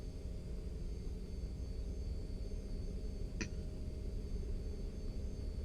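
An MD80 airliner's jet engines at takeoff power in a flight simulator, a steady low roar and hum with a brief faint click partway through.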